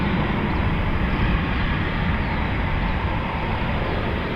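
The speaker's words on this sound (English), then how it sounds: "The beautiful Typhoon FGR4." Eurofighter Typhoon FGR4 jet in a flying display at RAF Coningsby, a loud continuous broadband roar of jet engines sustained steadily throughout with no voices.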